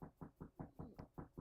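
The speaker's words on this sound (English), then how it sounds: "That's my dog scratching." A dog scratches itself nearby, a soft, faint rhythmic thumping that repeats about every fifth of a second in a steady run of seven or eight beats.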